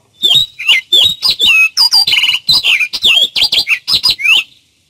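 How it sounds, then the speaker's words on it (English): Baltimore Oriole and Orchard Oriole songs ring out loud and close as a rapid run of clear whistled phrases and chattering notes, with no pauses. "one sung by the Baltimore Oriole, the other by the Orchard Oriole"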